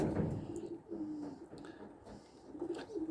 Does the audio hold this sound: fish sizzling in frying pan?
no